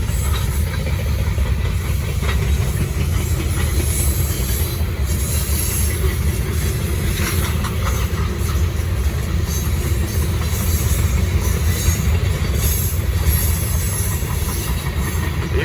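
A Norfolk Southern freight train rolls steadily past at close range in Gaffney, South Carolina, a continuous loud rumble of wheels and railcars with faint clickety-clack and occasional wheel squeal, no voices.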